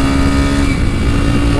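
A 2007 Honda NX4 Falcon motorcycle engine drones loud and steady at high revs, with harmonics shifting as it pulls hard, and a voice speaks over it.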